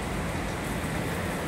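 Heavy rain driven by strong wind on a stormy afternoon, a dense, constant hiss of pouring water with a low gusty rumble underneath, close and loud throughout.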